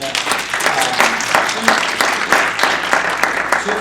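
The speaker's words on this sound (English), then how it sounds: "Let's give them a round of applause" A conference audience applauds a media panel, steady dense clapping with a few voices mixed in, close and fairly loud throughout.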